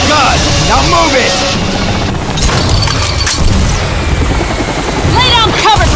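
Banshee helicopter in Bulletstorm, a loud steady rotor roar filling the scene, with booms, crashes and gunfire bursting around it and voices shouting over the din.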